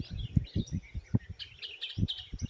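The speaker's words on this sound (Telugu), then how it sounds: "ఈ రకరకాల పక్షుల శబ్దాలతో మనసు ప్రశాంతంగా హాయిగా ఉంటుంది" Various birds sing in a village forest, with overlapping chirps and short calls close by. Soft low thumps sound beneath them.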